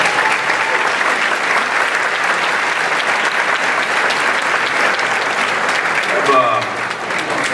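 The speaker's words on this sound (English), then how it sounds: "so let's give them a round of applause." Sustained audience applause at a convocation ceremony, a dense wash of clapping from a sizable crowd that continues throughout, easing slightly near the end.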